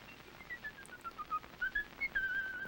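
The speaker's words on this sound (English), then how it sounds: "And you whistle as you leave" A person whistles a wavering, sliding melody while walking away after a date, clear and fairly close, with no talking over it.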